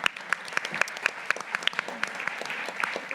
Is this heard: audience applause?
yes